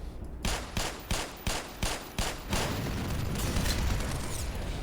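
Gunfire and explosions from the video game Black Mesa: a loud rapid string of booming shots in a steady rhythm, then a sustained rumbling roar of blasts and debris filling the rest.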